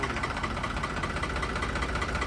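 A New Holland 3630 Plus tractor diesel engine runs at a steady idle, a close, even rumble with a slight knocking pulse and no voices over it.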